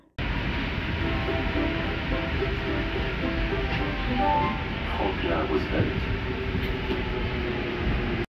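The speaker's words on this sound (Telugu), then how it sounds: "have to listen to this అనమాట మెట్రోలో" A Paris metro Line M1 train rumbles and rattles steadily from inside a busy carriage, loud and constant for the whole stretch, with faint squeals near the middle.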